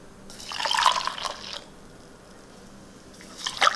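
Water splashes and trickles into an MRE coffee cup in a short burst, then quiet, then another brief pour near the end; close and fairly soft.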